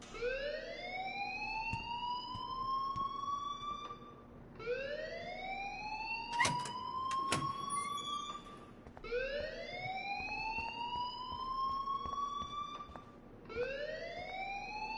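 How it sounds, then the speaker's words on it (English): An alarm in the Life is Strange Remastered video game sounds a repeating upward-sweeping siren tone, four long wails in a steady cycle at moderate volume with faint clicks and knocks underneath. "please turn off that alarm since that's your job."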